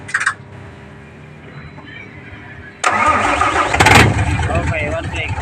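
A Fuso 6M70 truck diesel, suffering from double EGR trouble, cranks and fires into a loud rough rumble after a brief click and a quiet pause, heard close with people talking nearby.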